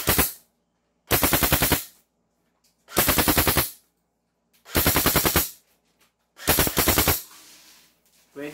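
Airsoft M14 rifle firing 500 FPS, letting off five loud, close bursts of rapid fire, each about half a second long, with short silent gaps between them.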